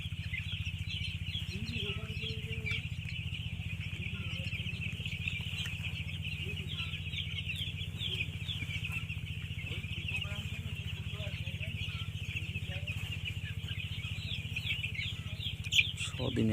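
Six-day-old poultry chicks in a shed keep up a dense, continuous chorus of high chirps over a steady low hum from the shed.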